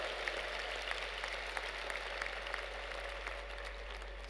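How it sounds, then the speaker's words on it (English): A commencement audience at the University of Memphis applauds graduates' families and teachers, with a distant, steady wash of clapping from a large hall under a low constant hum. "We need a round of applause for the families, the parents, the professors, the friends that have helped them come to this day."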